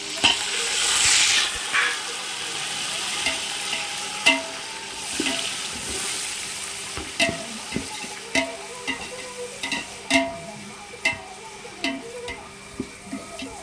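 Eight hundred grams of chopped tomatoes sizzle in a pan for chicken biryani while a spoon scrapes and stirs them in a steady run of close clacks, the frying hiss loud at first and then settling beneath the rhythmic stirring.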